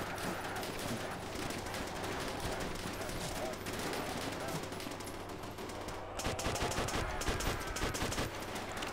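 Dense, continuous automatic gunfire from a Call of Duty: World at War zombies match, with machine guns and rifles firing together; the rattle stays loud throughout and swells a bit near the end, with some speech mixed in.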